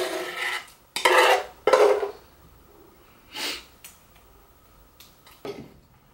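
A spatula scraping and tapping in a baking dish while sweet potato mixture is spread over a casserole, a few short clattering scrapes separated by quiet pauses.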